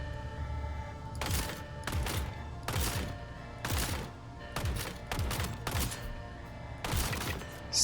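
About eight sharp sniper shots ring out one after another from the Killshot "Payback" rifle in a video game, each a booming crack spaced roughly a second apart over a quiet background.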